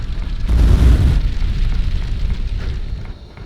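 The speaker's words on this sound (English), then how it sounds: "we can set the tree on fire" A flamethrower sets a tree ablaze in the game Unreal Bounty Hunter, a loud whooshing burst that swells into a rumbling roar and then settles into a steady crackling burn.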